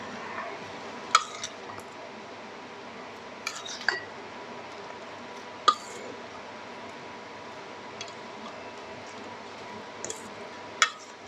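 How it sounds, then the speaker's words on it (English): A sugar-free Thai salad being tossed in a bowl, heard as a quiet background with scattered sharp clinks of utensils against the dish every second or two. "Okay, now you can mix it."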